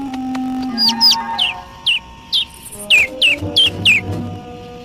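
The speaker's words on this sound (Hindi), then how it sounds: "ओह, एक नन्हा सा पंछी।" A small cartoon bird in the animated series Sofia the First chirps in a series of short, high tweets, close and clear, some in quick pairs, over a quiet hum.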